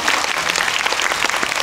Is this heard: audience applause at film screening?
yes